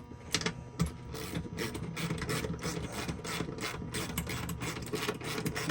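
Hand tools tighten fittings back into a new hull fitting during a fuel system overhaul on a 60-foot Hatteras boat, with rapid ratcheting clicks and mechanical rattles close by in quick irregular bursts.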